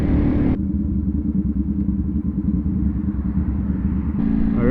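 A Ducati V4 motorcycle engine, just after a clutch bleed, rumbles steadily at close range while riding, a deep continuous drone with a brighter edge at the start and end.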